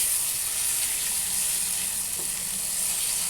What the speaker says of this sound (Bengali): বাটা মাছ দিয়ে আমি আস্তে আস্তে আবার নাড়তে থাকবো যাতে মশলাটা মাছের গায়ের সাথে লাগে।